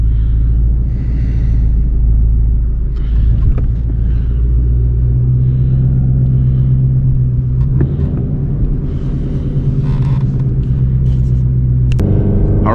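A Ford Shelby GT350 Mustang with a K&N air filter and a 6-speed manual transmission rumbles loudly and continuously from inside the car as it pulls away and drives, its engine note shifting with a few light interior clicks.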